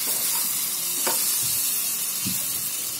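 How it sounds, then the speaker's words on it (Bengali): Chicken keema with tomato sauce being stir-fried in a pan: a loud, continuous close sizzle with a few soft thumps and scrapes from the stirring spoon, and no voices. "দেখুন একটু টমেটো সস দিয়েছি, এবার ভালো করে আমি এটাকে কষিয়ে নেব"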